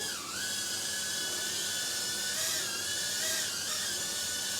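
A steady high-pitched whine of Eachine E008 toy quadcopter motors, continuous and fairly loud, with slight pitch wobbles as it hovers nearby.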